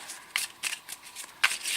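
Arkham Horror town encounter cards being shuffled by hand, a run of quick papery riffles and bursts with short pauses between them, close and fairly quiet with no talking.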